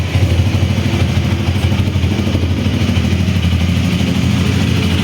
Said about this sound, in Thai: ลองฟังเสียงเครื่องนะครับ เครื่องยังดีมากนะครับ